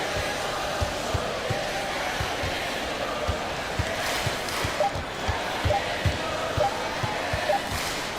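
An arena crowd roars steadily in an NBA 2K basketball game while a basketball bounces in a regular rhythm. A commentator's voice talks over the noise.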